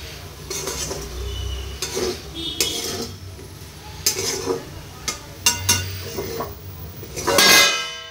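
Soybean chunks with potato and pointed gourd being stir-fried in a pan, with repeated scrapes and clinks of a metal spatula against the pot under a low sizzle, loud and close, in irregular bursts.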